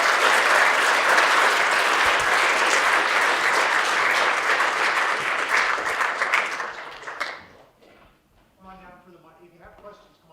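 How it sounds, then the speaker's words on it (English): Conference audience at a C++ programming talk applauds loudly and steadily for about seven seconds, then the clapping fades out and a speaker's voice continues alone. "I think we deserve a round of applause"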